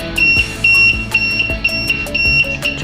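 Multimeter continuity tester beeping repeatedly while probing a shorted phone circuit board, a series of sharp, loud electronic tones that start and stop in quick irregular bursts, close up with no talking.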